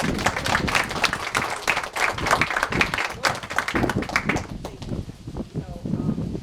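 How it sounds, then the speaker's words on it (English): An outdoor audience at a waterfront park dedication ceremony gives a lively round of applause, brisk and fairly close, with individual claps distinct. The clapping dies away near the end as a voice begins speaking. "let's have a nice round of applause for Sue"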